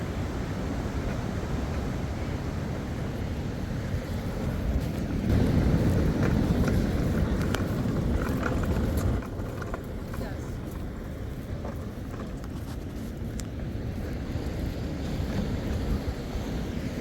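Ocean surf rolls in steadily at Manhattan Beach, California, a continuous loud wash of waves mixed with gusty wind noise across the microphone.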